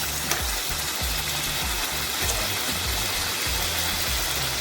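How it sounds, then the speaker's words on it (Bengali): Chicken pieces fry for a karahi, a dense steady hiss of hot oil with a low, rhythmic bumping underneath, even and unbroken throughout. "এটার মেন জিনিস হচ্ছে চিকেনটাকে কিন্তু ভালো করে তোমাদেরকে ভেজে নিতে হবে কিন্তু"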